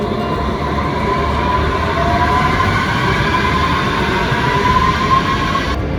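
Train station ambience at Berlin Hauptbahnhof, with a steady rumble of rail traffic and a faint tonal whine running throughout, continuous and fairly loud.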